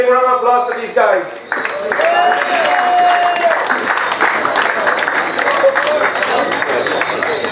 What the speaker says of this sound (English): Big round of applause for these guys.